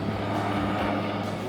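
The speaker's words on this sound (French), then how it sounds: "hélicoptère, hein, suite aux petites catastrophes qu'on a eues dans l'arrière-pays." A helicopter flies overhead in the hinterland after local disasters: a steady, loud, low rotor and engine rumble that fills the whole moment without a break or any talk.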